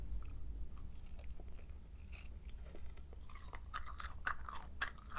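Someone chewing a mouthful of tteokbokki close to the mic, soft wet munching with a few crisp clicks of teeth, quiet and alone.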